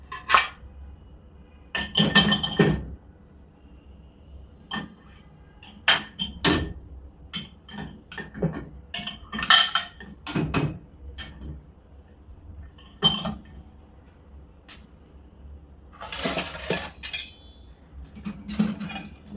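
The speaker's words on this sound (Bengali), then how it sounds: "স্পুনগুলো এক জায়গায় দিচ্ছি।" Metal spoons and cutlery clink and clatter in irregular bursts as they are loaded into the rack of a Midea two-rack dishwasher, close and fairly loud with short pauses between handfuls.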